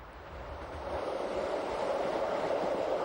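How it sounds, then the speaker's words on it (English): The Glacier Express train crosses the 152-meter iron girder Hinterrhein viaduct, a steady broad rumble that swells slightly and then holds, heard from nearby and without speech. "The train passes for the second time over the 152-meter-long iron girder Hinterrhein"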